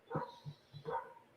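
Stuffed toy dog barking, a few short electronic-sounding barks close by, two louder yips with softer ones between, fairly quiet overall.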